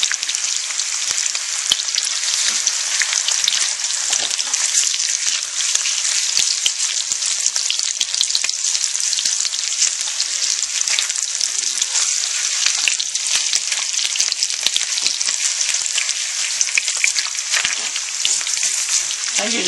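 Filipino tocino meat frying and caramelizing in a pan, giving a steady, dense sizzle that stays loud and even throughout with no voices.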